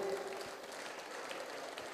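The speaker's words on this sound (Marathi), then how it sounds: "एकदा जोरदार टाळ्या वाजवा या सगळ्या कलाकारांसाठी" An audience at a college annual gathering in Latur claps for the performers. The applause is a steady, dense wash of hand claps, heard faint and distant throughout.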